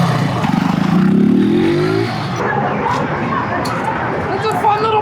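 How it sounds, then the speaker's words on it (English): A Benelli motorcycle engine revs up in a rising, buzzy surge over about two seconds, then settles back toward idle, close and loud, with people chatting over and after it. "That's a fun little bike."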